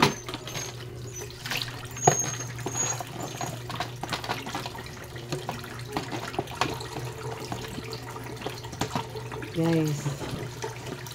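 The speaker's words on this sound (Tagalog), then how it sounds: "Ugas ng plato" Dishes being washed under a running kitchen tap, with a steady stream of water and occasional clinks of plates nearby; someone talks over the water now and then.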